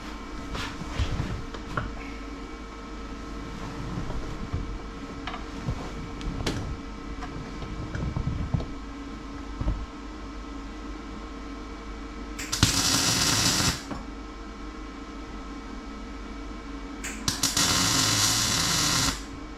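Two short bursts of tack welding on a 1969 Plymouth Fury III in a garage, each a loud crackling buzz lasting about a second, rising over steady workshop hum.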